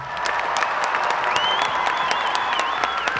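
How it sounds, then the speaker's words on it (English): A short round of applause on a podcast recording, steady dense clapping with some crowd-like cheer sounds layered over it, lasting about three seconds at moderate level. "Josh, can you give us a round of applause there?"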